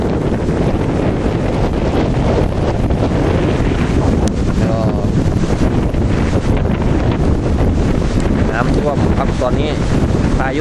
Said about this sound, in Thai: ลมแรงมากเลยครับ